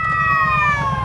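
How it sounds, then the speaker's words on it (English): A wailing emergency siren sweeps steadily and loudly, its tone gliding downward, with low traffic rumble underneath. "Sorry about the sirens."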